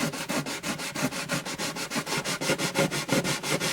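Steady, rhythmic back-and-forth rasping of 500-grit sandpaper on a guitar bridge of an Alvarez Artist AD65 acoustic, close and loud, with even strokes repeating about five times per second throughout.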